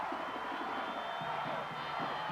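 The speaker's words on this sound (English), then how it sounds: "Crowd is on its feet." At a 1990 high school football semifinal, a stadium crowd roars and cheers in a continuous, dense wash of voices. No single voice stands out.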